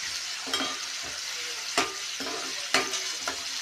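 Homemade ginger paste, made from half a kilo of ginger, fries toward brown in a pan with a constant sizzle, and a spatula scrapes about six times at an uneven pace, close by and without talking.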